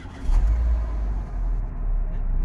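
A 2017 Renault Logan engine catches after the timing belt change and settles into a steady low idle rumble, close by, with a slight rev at the start.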